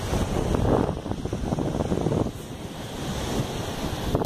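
Surf rolls onto a calm, empty beach at Carne de Vaca, Pernambuco, a steady close wash of breaking waves mixed with wind buffeting the microphone, with no voices.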